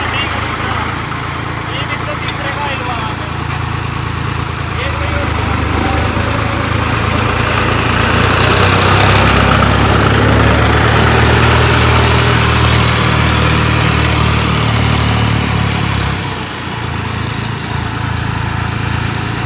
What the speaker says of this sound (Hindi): जॉन डियर देखो कितना गया, मीडियम का चौथा गियर है उसका।